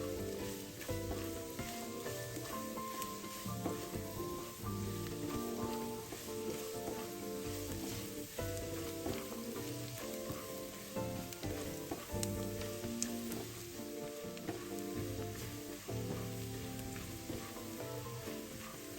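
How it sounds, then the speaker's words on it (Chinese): Minced garlic fries in rendered black pork belly fat with a dense, steady sizzle and occasional stirring, close and continuous without a break. "蒜瓣30克，剁碎后加入爆香"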